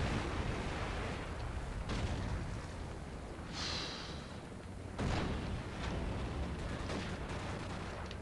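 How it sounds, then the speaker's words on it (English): Grenade blasts in Call of Duty 4, a loud dense rumble of explosions and bursts with sharp hits recurring across the stretch, no talking. "The grenades are crazy"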